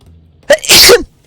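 A single sharp human sneeze, close and loud, with a short intake before the burst, over near silence.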